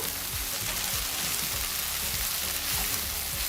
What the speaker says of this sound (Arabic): حبتين من البصل متقطع قطع كبيره مش مفروم، وهديهم كده تشويحه مع بعض